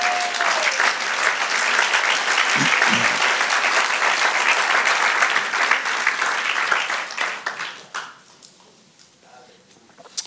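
A church congregation in the Bronx claps together in sustained, loud applause that carries for about eight seconds before thinning out and fading near the end.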